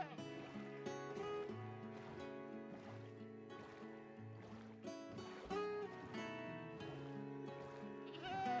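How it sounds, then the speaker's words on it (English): Goat in a farming video game bleating in several short wavering cries, one or two standing out more loudly, over faint background game music and sound. "Is this goat a screaming goat?"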